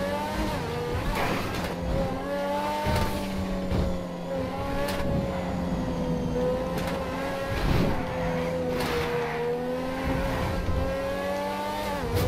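A supercar engine in GTA 5 revs and accelerates, a loud continuous roar with rising and falling pitch and occasional gear-shift breaks, up close with no talking over it.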